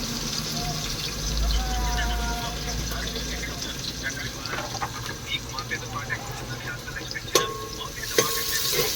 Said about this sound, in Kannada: ಹಾಕು ಮೆಣಸಿನ್ಕಾಯಿ ಹಾಕು ಹಾಕು ಚೆನ್ನಾಗಿ ಇದಾಗೈತೆ ಈರುಳ್ಳಿನೂ ಹಾಕ್ಬಿಟ್ಟು ಎಲ್ಲ ತಿರುಗಿಸು ಚೆನ್ನಾಗೆ